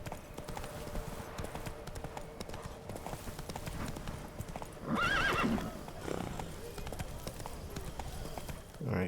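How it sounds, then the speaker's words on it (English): Horse hooves clip-clop at a walking pace in The Witcher 3, close and steady, with a loud neigh and whinny partway through and someone talking over it. "I don't call it walking, I'm on a horse"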